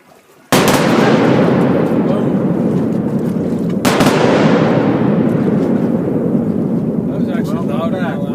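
Two thunderous sonic booms from SpaceX Falcon Heavy side boosters returning to land, a sharp crack then a second one about three seconds later, each followed by a long rumbling roar outdoors that keeps going.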